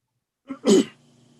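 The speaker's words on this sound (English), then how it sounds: "I was just clearing my throat." A single short throat-clearing rasp during a regional council budget meeting, close and fairly loud, preceded by a faint breathy catch, then quiet.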